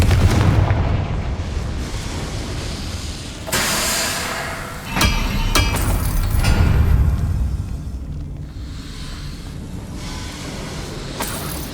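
A Confringo blasting curse from Hogwarts Legacy goes off in repeated heavy booms, loud explosive bursts with rumbling tails that rise and fade over a dense game soundscape, with no talking.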